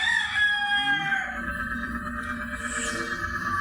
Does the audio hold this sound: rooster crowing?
yes